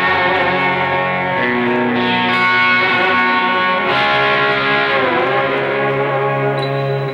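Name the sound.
electric guitar with reverb and delay, Boss eBand JS-10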